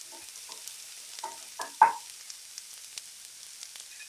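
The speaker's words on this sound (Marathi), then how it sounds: "आता तेल आपला तापला. आता पहिलो घालून घेते कांदो." Two large, finely chopped onions drop into hot oil in a home kitchen pan for a radish stir-fry, giving short, faint bursts of sizzling and stirring that fade after a couple of seconds.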